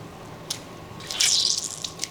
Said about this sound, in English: Squeezing out a little bit more water.